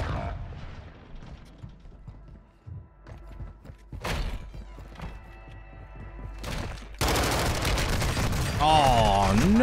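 Stun grenade going off in an online shooter game, a sudden loud burst followed by a sustained ringing, warbling whine that fills the end of the clip after earlier scattered gunfire and thuds.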